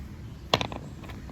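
A hand tool grinds a piece of chert stone in a few quick, close scraping strokes, bunched together in a short burst against a quiet background.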